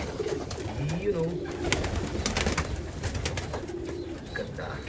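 Young pigeons in a loft give soft, low cooing calls through the whole stretch, close by, with someone talking over the birds much of the time.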